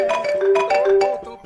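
Mobile phone ringtone playing a bright, melodic electronic tune of short repeating tonal notes, clear and close, with no talking over it.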